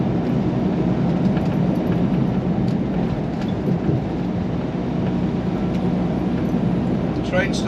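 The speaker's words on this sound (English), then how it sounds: "Train's still going. Still got the train." A long freight train, about a mile of cars, rolls past on a sunny day in Utah, giving a steady, loud low rumble and rattle that carries on without a break.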